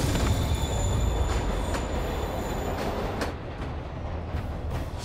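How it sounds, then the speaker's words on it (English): A moving train in Marvel's Spider-Man Remastered on PC gives a loud, continuous rumble of rolling wheels and carriages, with faint high squealing tones and the roar easing slightly partway through. "Train's moving. Lee's getting away."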